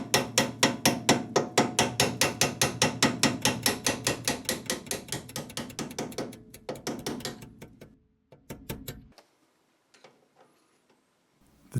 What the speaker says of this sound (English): With the hammer and punch, I drove out the upper shim plate.